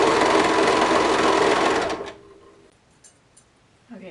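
A sewing machine stitches a cardigan seam at the neckband, running as a loud, steady, close whir for about two seconds before stopping abruptly, leaving only a few faint clicks and handling sounds.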